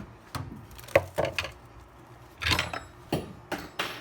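A fork drops in a home kitchen while spinach puffs are being made: a few sharp, close clattering knocks and bumps spaced across a few seconds, with quiet gaps between them.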